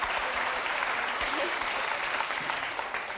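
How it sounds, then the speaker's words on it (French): A quiet, continuous patter of studio-audience applause on a French television game show, steady and even throughout the short stretch. "Et maintenant, après ces applaudissements"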